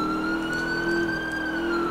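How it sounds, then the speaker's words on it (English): Real ambulance siren wailing outside a window, a steady sustained tone holding across the whole moment, fairly loud and continuous with traffic-like rumble beneath. "there's actually a real ambulance right outside my window,"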